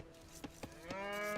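A cow lows in the Age of Empires II video game, with a couple of short clicky taps before a sustained, harmonic moo that swells near the end.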